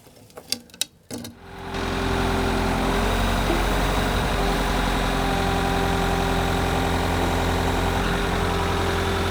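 A tractor engine idles loudly and steadily after a few brief knocks, its low droning hum holding constant close by with no talk over it.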